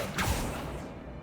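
An Accio summoning spell cast in the video game Hogwarts Legacy gives a quick, airy swoosh with a low thump near the start, then a fading rushing tail.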